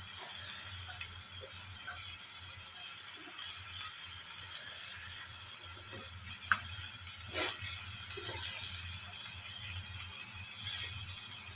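Banana flower curry with prawns frying in a pan gives a steady, close sizzle with occasional clicks and scrapes from stirring, with no talk.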